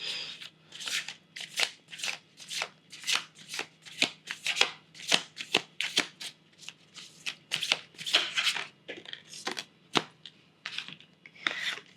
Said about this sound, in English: I'm going to pull an oracle card to see what's another, like any more guiding messages and words from spirit to you